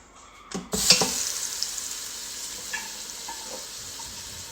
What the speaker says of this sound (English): we're gonna go ahead and add in the pot roast. And we're gonna just brown it on all sides